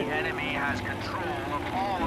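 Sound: aircraft engine in Battlefield V video game

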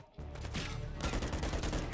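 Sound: shotgun fire in video game Call of Duty Modern Warfare 3

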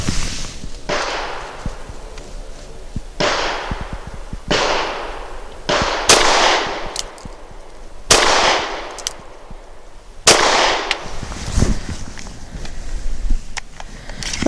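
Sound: Sig P365 XL pistol firing Norma 108 grain monolithic hollow points

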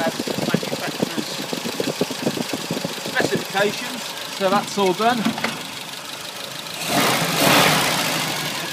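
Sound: MG Midget 1500 engine idling after timing

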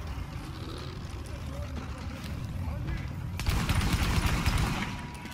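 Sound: gunshots in the video game The Division

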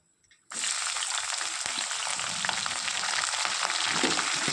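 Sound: onion and green chilli pieces frying in tempering

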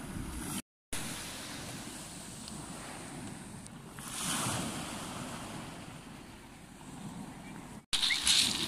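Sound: sea waves on the shore

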